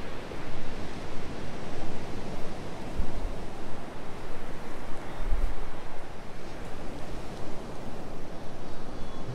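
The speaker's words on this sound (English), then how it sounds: "just listen to the waves come in." Ocean surf rolls in steadily at Myrtle Beach, a continuous broadband wash with a couple of heavier low thumps from breaking waves, fairly close and even in loudness, with wind noise and no voices.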